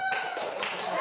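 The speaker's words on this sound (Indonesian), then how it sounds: "Tepuk tangan untuk kita semua" A short burst of hand clapping from a small group at a school coaching session, brief and close, lasting about a second with a faint tonal hum beneath it.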